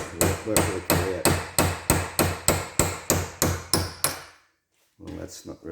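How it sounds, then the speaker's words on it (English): Hammer knocking the key out of a VW Beetle generator shaft: about a dozen sharp metallic blows in an even, brisk rhythm, close and loud, then a pause and a softer clatter of handling. "Figure out what I've done with the hammer."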